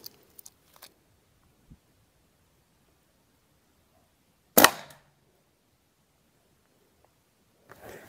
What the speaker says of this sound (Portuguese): Primeiro disparo